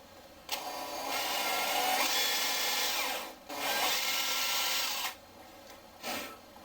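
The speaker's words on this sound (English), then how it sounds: "So maybe when I drill my hole," A power drill bores a hole into wood on a segmenting sled. The steady high whine runs for several seconds, stops briefly and starts again, then a short final burst follows. It is close and loud, with no speech.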